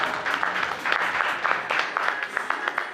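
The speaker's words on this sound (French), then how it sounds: "On peut applaudir bien fort Léna, merci beaucoup." An audience applauds at a men's, women's and children's fashion show at an events fair in Metz, with a dense, steady wash of clapping and a few sharper individual claps standing out, fairly loud and continuous throughout.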